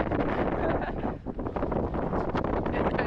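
Strong wind buffets the microphone in a continuous roar, briefly easing before gusting back up, in the Turks and Caicos.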